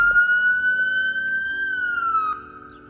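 A police, ambulance or fire siren wails loud and close in stopped traffic in Canada, a steady rising-and-falling tone that dips lower near the end over a faint engine hum.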